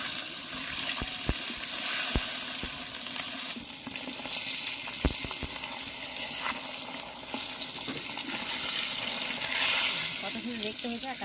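Steamed brinjal pieces fry in oil in a pan, a dense continuous sizzle with a few sharp clinks of a utensil against the pan and some watery bubbling.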